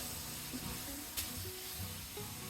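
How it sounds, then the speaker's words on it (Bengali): Broccoli and chicken stir-frying in a pan with sugar and sliced chilli, giving a steady, quiet sizzle with soft stirring scrapes throughout, no voices. "কিছুক্ষণ ভেজে নেব।"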